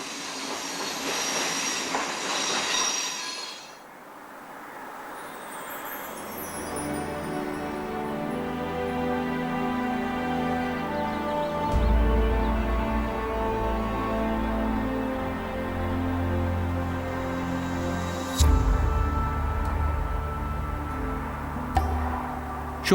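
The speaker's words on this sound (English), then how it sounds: "the train passes the Kiruna roundhouse and workshop complex" An electric iron ore train on the Malmbanan railway near Kiruna rolls past with a steady heavy rumble, a rhythmic clatter of wheels over rail joints and high squealing wheel tones. It sounds loud and close, with no voices.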